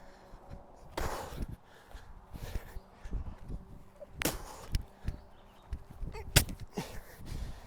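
Tennis racket striking the ball on a court during a warm-up, a few sharp hits spaced out as two volleys followed by an overhead, with scuffing footsteps and light court noise between shots.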